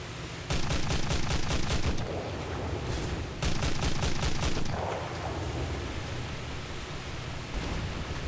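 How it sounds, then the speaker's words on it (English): Gunfire raking a boat in War Thunder naval combat comes as rapid, rhythmic bursts of automatic shots, two clear volleys over a constant loud roar of engine and water noise. "Everything's shooting at me!"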